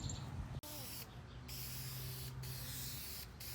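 A spray paint can hisses as it coats car parts for a rebuilt Acura Integra, giving short bursts of a steady, close hiss separated by brief pauses.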